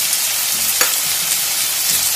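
Garlic, ginger and green chilli frying with onion in hot oil for batata vada filling, a loud, dense, continuous sizzle up close with a faint stirring scrape partway through.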